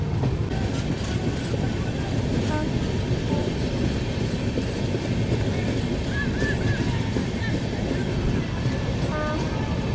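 Patna Udaipur Humsafar Express rolling along a curve, a loud steady low rumble of wheels and carriages with wind buffeting the microphone and faint squeals from the track.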